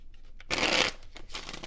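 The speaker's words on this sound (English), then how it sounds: "And I constantly shuffle, because I'm told to." A deck of tarot cards is shuffled in one brisk, close riffle, followed by a few softer flicks and rustles of the cards.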